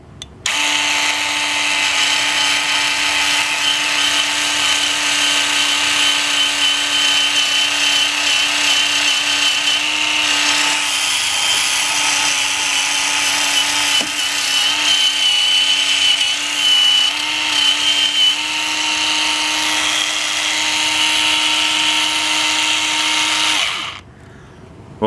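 A Dremel PC-10 Versa rotary tool whines steadily at high speed for over twenty seconds, grinding rust off a steel drill press post with slight changes in pitch, then cuts off abruptly.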